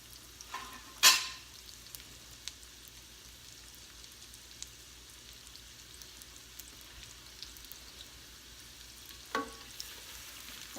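Sliced onions sautéing in a pan for shrimp scampi sauce make a soft, steady sizzle, broken by a sharp scrape or clatter early on and another brief knock near the end.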